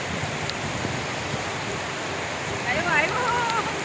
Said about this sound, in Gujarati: ઘડીક આવો વરસાદ પડ્યા રાખે તો મજા આવી જાય